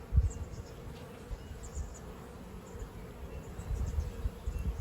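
Honeybees buzz in a steady, low drone around a hive entrance in an Australian apiary, close by and continuous.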